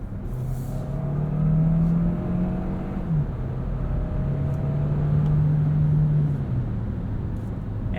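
A 2022 Hyundai Tucson Hybrid's 1.6-liter turbo engine accelerates in sport mode, a steady close engine drone with two rising pulls and a brief dip between them, no talk.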